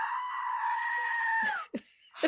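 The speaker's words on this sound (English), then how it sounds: "And the screaming goat opens the show." A goat lets out one long, loud bleating scream that holds steady for about a second and a half and then breaks off, followed by a couple of short rough bursts.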